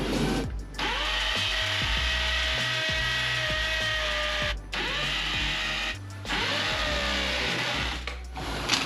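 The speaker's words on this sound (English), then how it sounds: "I'm going to take a hammer drill to it" A hammer drill roars loudly and steadily while drilling into cement, cutting out briefly twice as the trigger is released, then resuming its harsh, rattling grind.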